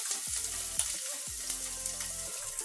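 Onion frying in about two spoons of hot oil in a pan for keema, a crackling sizzle with stirring scrapes and soft clinks, close and steady.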